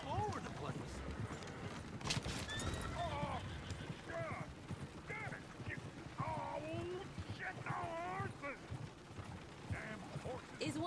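Horse hooves clip-clop as a horse-drawn coach with its team gallops in Red Dead Redemption 2, faint and steady beneath characters' dialogue.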